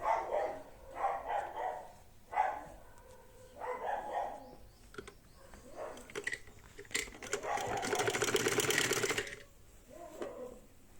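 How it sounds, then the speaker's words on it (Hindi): A sewing machine runs in short bursts and then one longer run while topstitching a collar neckline, with a dog barking intermittently nearby. "तो इस तरीके से हमें इसमें ऊपर से सिलाई कर लेनी है।"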